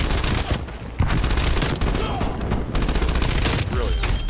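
Dense automatic gunfire from a Call of Duty Black Ops Cold War team deathmatch fills the whole stretch, loud and nearly continuous, with bursts overlapping and no pauses.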